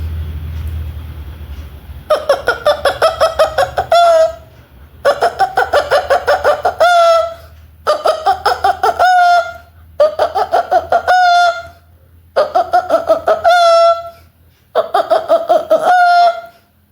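At a mimicry show, a person imitates a hen clucking in six bursts of rapid clucks, each ending in a rising squawk, separated by short pauses.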